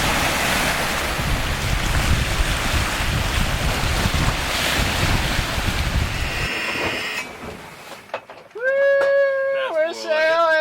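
A Vagabond 42 sailboat under sail just after its engine is cut, with steady wind rush and waves washing loudly for several seconds; the sea noise then drops away and voices talk near the end.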